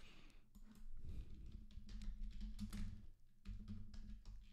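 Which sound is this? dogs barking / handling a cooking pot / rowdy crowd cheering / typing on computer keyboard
typing on computer keyboard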